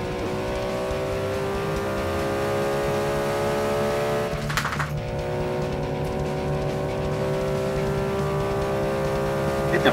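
A supercar launching hard off the line in Forza 5, its engine a steady, loud, droning roar that holds through one brief gear-change dip, with a voice talking underneath.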